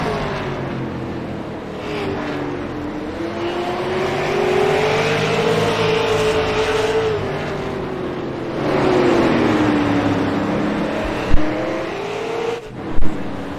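Super late model race cars racing at Southern National roar continuously at close range, engine pitch rising and falling as they circle, with a couple of sharp thumps near the end.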